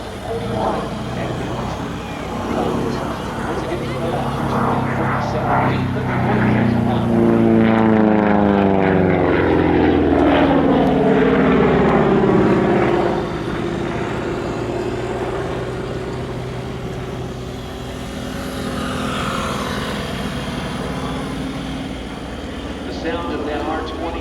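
A Republic P-47 Thunderbolt with its R2800 radial engine runs at power in flight at an airshow, a deep propeller drone that swells loud and shifts pitch as it passes, then fades into distant rumble.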